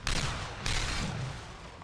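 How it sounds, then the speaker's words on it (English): A sword sound effect in the Dota 2 video game, booming like an ion cannon, lands in two loud blasts about half a second apart, each with a long rumbling decay. "That is the most satisfying noise with the sword"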